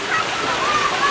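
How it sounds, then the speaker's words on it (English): Water jets spray in a kids' play area at an amusement water park, a steady close rushing and splashing hiss that fills the short moment. "Another area that shoots out the water."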